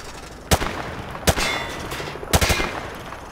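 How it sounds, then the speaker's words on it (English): Rifle shots at range targets in Call of Duty Modern Warfare 2 Remastered training: three loud, sharp single cracks spaced about a second apart, the last followed by a quick second shot, over a low background hum. "Grab that weapon off the table and fire at the targets behind you."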